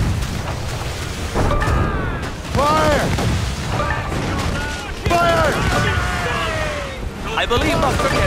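Heavy booming mortar fire from a sailing warship in Assassin's Creed Rogue, with rolling blasts and crashing impacts at sea, sounds under loud shouted in-game dialogue and surging water throughout.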